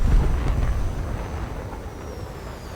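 An AIM-9J missile launched from an F-4E in War Thunder, a loud low rumbling burst at the start that fades into a sustained roar trailing off over a few seconds.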